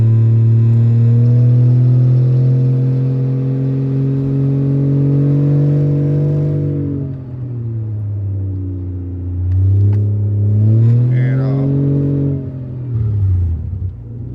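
A race truck's engine rumbles loudly and close, droning at a steady pitch, then dropping and climbing again through repeated revs as the truck pulls away around the block.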